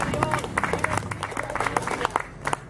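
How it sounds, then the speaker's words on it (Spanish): A church congregation applauds during worship, a short burst of loud, fairly dense clapping with crowd noise and voices mixed in. "Dale un fuerte aplauso a Cristo."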